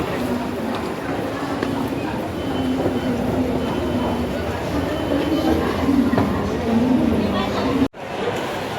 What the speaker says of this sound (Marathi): हे आपले ट्रेन आहे हुबळी एक्सप्रेस, जे 8:25 सुटते